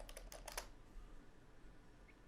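Computer keyboard typing, a quick handful of faint, close key clicks in a brief burst at the start, followed by quiet room hum.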